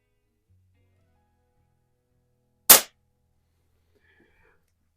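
A single sharp crack from a Baikal IZH-46M SSP target air pistol, a lone short loud report in otherwise near silence.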